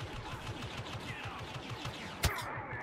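Rapid, steady gunfire from a Star Wars Bespin contracts video game rattles on continuously at mid distance, with one sharper loud crack near the end, no voices over it.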